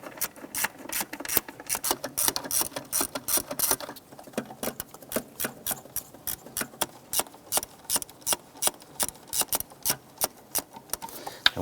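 A hand ratchet snugging throttle body bolts on a Ford Five Hundred clicks in rapid, steady bursts of close, sharp pawl ticks, pausing briefly between strokes, with no voice over it.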